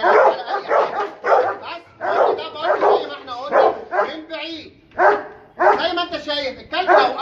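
A dog barks loudly and repeatedly in close bursts during bite-work protection training, with sharp rhythmic volleys broken by short pauses and some whimpering yips.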